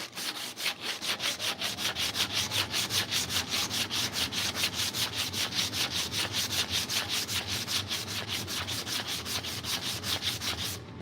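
Maple wood is scraped in quick, regular back-and-forth strokes, a steady rhythmic rasping that stays close and fairly loud throughout, with no voices.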